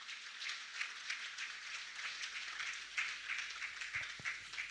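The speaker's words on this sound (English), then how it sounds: "Please, another round of applause for her." Audience applause follows a speech at a national stakeholders' dialogue on power in the Nigerian health sector, a faint, distant patter of clapping that holds steady for several seconds.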